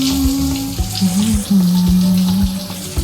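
Shower water running in a video game cutscene, a steady rush of spray at close range, with a low tonal hum and a few soft knocks over it, no talking.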